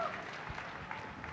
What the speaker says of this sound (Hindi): ताली बजाओ मैडम के लिए भाई